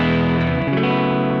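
Gretsch G5622T semi-hollow electric guitar with Bigsby, strummed on the bridge pickup through effects with distortion and chorus, one sustained chord ringing and then changing, loud and close with no talk.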